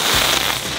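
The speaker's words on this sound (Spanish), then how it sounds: "¿Pero qué le pasa a estos petardos? Están defectuosos." A defective firecracker set off by a small group outdoors gives a short, noisy crackling burst that fills the clip, with no clear sharp report.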